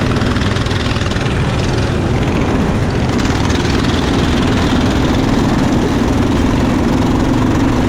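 Engines of go-karts on the rolling lap of a race, a dense, steady low drone held throughout at constant loudness with no pauses, no voices heard over it.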